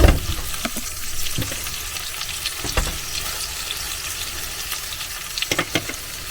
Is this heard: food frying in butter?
yes